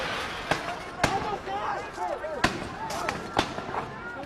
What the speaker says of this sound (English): Tear gas is coming. Under fire, the protesters retreat onto campus.